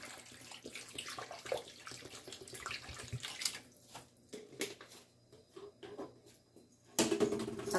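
Water poured into a cooking pot of browned pork spareribs for nilaga, a steady close splashing pour running under kitchen background with a louder gush near the end.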